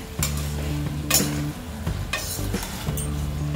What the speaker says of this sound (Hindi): अब हम इसमें डालेंगे ये बॉइल्ड आलू मिक्स कर लेंगे और इसे भी दो मिनट तक हम फ्राई कर लेंगे